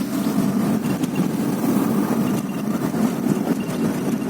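A 2003 Honda Accord V6 drives over a rough, bumpy road, its engine a steady mid-low drone with road rumble and occasional light thumps from the suspension, loud and continuous throughout.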